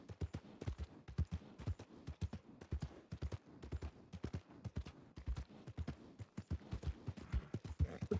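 Horse hooves clip-clop steadily at a trot in the western video game Red Dead Redemption 2 on WildRP, with rapid, evenly spaced thuds that stay faint but continuous throughout.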